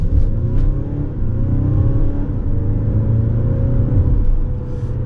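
Mercedes-Benz GLA 200d SUV with a 2-litre inline-four diesel accelerating in sport mode, a loud, steady engine drone and road rumble heard from inside the cabin, the pitch rising slowly, with no talking.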